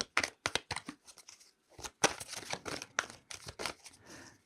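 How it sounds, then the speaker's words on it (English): A deck of tarot cards is shuffled by hand in quick, crisp riffling bursts separated by short pauses, close and fairly quiet with no talking. "So I'm just going to keep shuffling"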